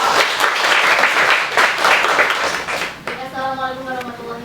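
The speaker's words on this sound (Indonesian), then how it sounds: "Tepuk tangan dulu." An audience at a poetry class during a literary gathering claps loudly for about three seconds before the applause fades and a voice begins speaking.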